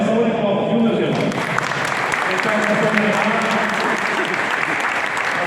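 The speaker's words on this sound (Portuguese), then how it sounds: "Acho que merece uma salva de palmas" Church congregation applauding at a men's conference, a thick sustained round of clapping that swells after the first second and stays loud and even to the end.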